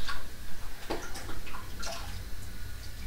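Water runs from a tap as someone rinses off after wet shaving with a Weishi razor, a steady wash with a few small splashes and drips.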